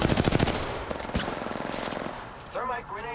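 Rapid automatic gunfire rattles in a video game shootout, a dense rhythmic burst at the start that keeps pulsing more faintly, with a voice talking over the later part.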